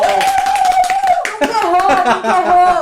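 Applause from a virtual audience on a Brazilian Turma da Mônica web show: steady, bright clapping mixed with cheering voices, continuous and close for a few seconds.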